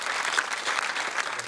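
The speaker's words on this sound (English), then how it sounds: "So a huge round of applause, please, for Jamelia and for Helen Sharman." A studio audience at a TV game show claps steadily, a brief burst of dense applause at moderate loudness with no voices over it.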